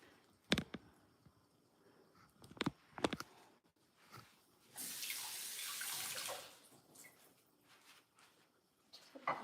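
Items are rinsed under a running kitchen tap while crispy rice with cha bong and lap xuong is being made: a burst of flowing water mid-clip between scattered clicks and clatter, fairly quiet, with no talking.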